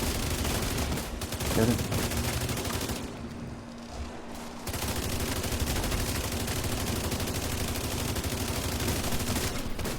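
Rapid, dense gunfire in Roblox Murder Mystery crackles almost continuously, pauses for about a second and a half, then resumes just as loud, with a brief spoken voice early on.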